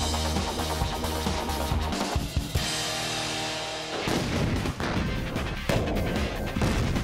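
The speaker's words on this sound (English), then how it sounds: "That's what the detonation of a trunk full of Hollywood binary explosive looks like." A car trunk packed with binary explosive detonates, a heavy blast that erupts into a loud rumbling roar and crackling debris, set among music and other loud sounds.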